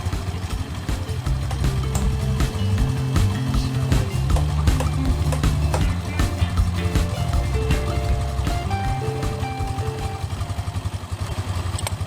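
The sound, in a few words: motorcycle engine running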